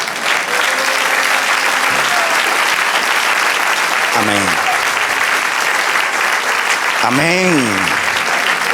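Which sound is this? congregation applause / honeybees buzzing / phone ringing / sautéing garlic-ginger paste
congregation applause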